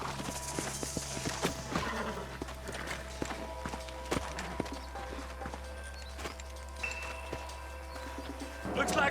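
Horses in the Western video game Red Dead Redemption move with a scattered clip-clop of hooves, close and fairly faint over a steady ambient hum, with an occasional snort.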